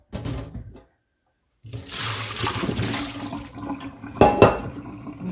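Rinse water from a pan of natural colored BFL wool dumped out: a brief rustle, a short silence, then a loud rushing pour and splash lasting several seconds, ending with a few clattering splashes.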